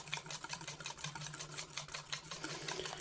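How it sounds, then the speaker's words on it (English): Cornbread pancake batter whisked in a bowl, a fast, steady rhythmic scraping and sloshing heard up close, with no one talking. "And just give it a good thorough whisking here."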